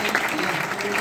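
A brief burst of audience applause at a stage event, dense and steady clapping with voices faintly mixed in.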